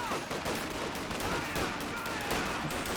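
Grenadiers firing in Company of Heroes 2, a thick, steady wash of rifle and machine-gun fire mixed with battle noise, moderately loud and continuous throughout.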